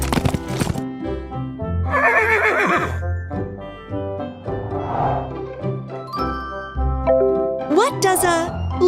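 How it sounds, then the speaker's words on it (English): A cartoon horse neighs in a kids' animated show: a few loud, wavering whinnies stand out over bright jingling musical tones. "A horse neighs."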